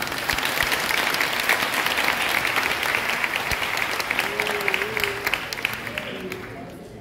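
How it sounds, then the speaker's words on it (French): Sustained, dense applause fills a graduation ceremony hall at an arts school, loud and continuous throughout, with a voice briefly audible beneath the clapping toward the end. "je vous invite à les applaudir chaudement, s'il vous plaît."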